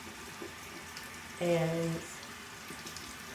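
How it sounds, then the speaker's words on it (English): Hot water from a tap runs in a single short burst of about half a second, close and moderately loud, with faint talk and a quiet room around it. "What I like to do is run my hot water"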